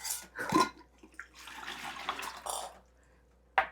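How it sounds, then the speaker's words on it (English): Dark homemade elderberry juice is poured into a pitcher at close range. Liquid splashes and gurgles come in uneven bursts with short pauses, and a sharp final knock or clink follows. "So, yeah, we're gonna pour it in a pitcher."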